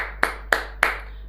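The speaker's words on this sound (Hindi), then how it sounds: "तालियां बच्चों, ताली बजाओ भाई सभी लोग" Three evenly spaced, sharp single hand claps during a class lecture, close and distinct over a low steady hum.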